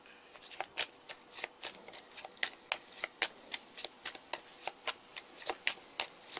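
Oracle cards are shuffled by hand close up in a steady run of about twenty crisp, evenly spaced riffling snaps against a faint background hiss.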